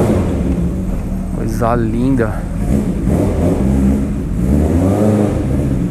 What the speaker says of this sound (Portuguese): Olha o som dessa moto.